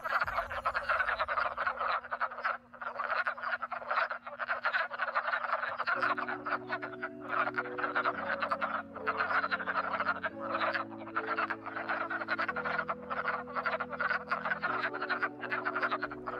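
A dense chorus of croaking wood frogs gathered in a pond, continuous and loud, with many overlapping calls and a low droning tone running underneath throughout.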